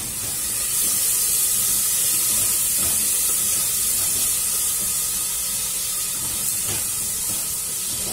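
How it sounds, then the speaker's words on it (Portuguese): Butter melting and sizzling in a pan with onion and garlic, a dense, continuous frying hiss that stays loud and even throughout, with no talking. "vou botar um pouquinho de manteiga aqui na cebola e no alho"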